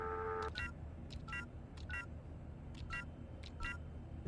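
A phone in the video game Shadows of Doubt being dialed: a short steady tone, then a run of six crisp electronic keypad beeps at an even pace over a low background hum.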